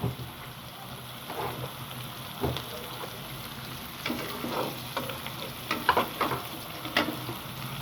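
Garlic, cumin and ginger pastes frying in a pan for a chicken curry, a soft steady sizzle with scattered crackles and spatters close by, some louder pops toward the end.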